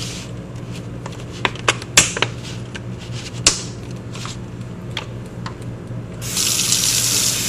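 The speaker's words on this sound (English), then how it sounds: "Remember to use cold water to rinse the strawberries also." Cold tap water runs into a sink as strawberries are rinsed, a steady close stream punctuated by splashes, knocks and handling clicks, swelling louder near the end, with no talking.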